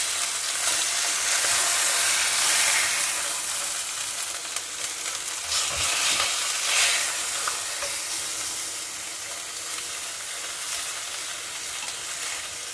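Fish sizzles and spits in a hot frying pan as the raw side cooks over raised heat, with a steady, close crackling hiss and occasional louder pops, no talk.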